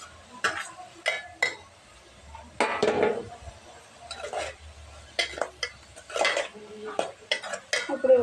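Tomato pieces tumble into a pan of fried onion for an egg and dried fish curry, followed by several clattering metal spoon stirs and scrapes against the pan amid soft frying, with quiet pauses between.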